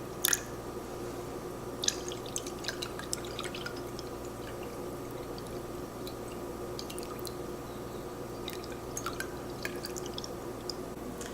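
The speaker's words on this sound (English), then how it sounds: "now we're going to pour the juice in there" Lime juice for homemade cordial pouring and dripping through a strainer, a steady soft trickle with scattered close drips and small splashes, no voices.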